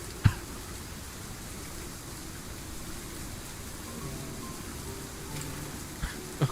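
Rain sound effect in the video game Limbus Company, a constant hissing downpour at moderate level with a few faint clicks near the start and end, no talking.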